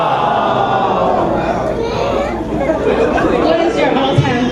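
Loud, continuous crowd chatter and mixed voices, with some children among them, filling the space throughout a Newlywed Game held at the Bishop family reunion.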